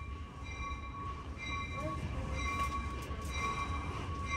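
A Metra commuter train led by an EMD F40PH-3 locomotive sits at a station, with a low rumbling idle and steady tonal whine from the equipment, plus faint clanks and a brief squeal.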